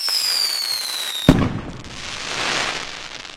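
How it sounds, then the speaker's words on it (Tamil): A Sivakasi 3-inch skyshot firework whistles as it climbs, bursts with a single sharp bang, then fizzes and crackles as its white sparkles spread, heard from a short distance outdoors. "மேலே போய் வெடிச்சு கருப்பமா அந்த ஒயிட் கலரில் ஸ்பார்க்லிங் வருது பாருங்க"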